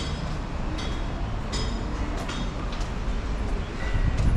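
A train rumbles past on the Macau train line near Lok Koi Avenue in Coloane, a broad, steady roar with faint clicking accents that swells slightly toward the end.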